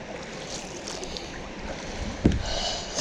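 Spring creek rapids rush and gurgle around a kayak, a steady close wash of water with a brief sharper splash or knock near the end, no talking.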